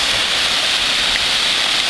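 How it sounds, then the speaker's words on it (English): A powerful waterfall at Wied il-Mielah roars in a dense, steady rush of falling water, loud and close with no break, and no voices over it. "here is another waterfall, and it's really full of energy"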